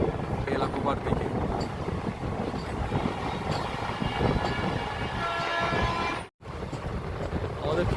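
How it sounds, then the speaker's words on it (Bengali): A train rolls steadily along the rail route toward Belakoba, with a continuous dense rumble and rattle of the carriages heard from on board, plus wind buffeting, lasting throughout with a brief dropout near the end. "আমাদের ট্রেন ধীরে ধীরে এগিয়ে চলেছে আমাদের গন্তব্য বেলাকোবার দিকে"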